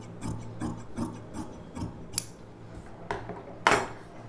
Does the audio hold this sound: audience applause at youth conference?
no